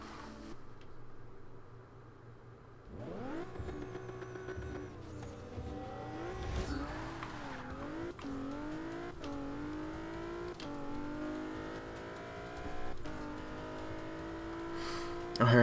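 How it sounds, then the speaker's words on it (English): A race car in Forza Motorsport 2 accelerating hard down a straight half-mile drag strip, its engine climbing through rising revs with sharp gear changes, loud and continuous with no talking. "this is just gonna be a no messing about, full on straight half-mile drag race"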